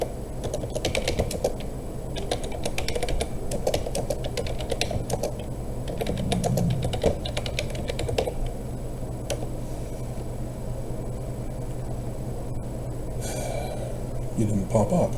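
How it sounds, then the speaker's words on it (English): Fast, irregular clicking of a computer keyboard runs through the whole stretch, close and fairly loud, with audible breathing and occasional speech at a lower level. "I'm gonna start typing and then it's gonna appear."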